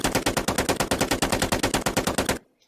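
Rapid automatic weapon fire from a video game in development, a rattling burst of about two dozen evenly spaced loud shots that cuts off abruptly into silence.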